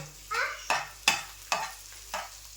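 A spoon scrapes through an egg and potato mixture frying in a pan, making five evenly spaced stirring strokes over a quiet, steady sizzle.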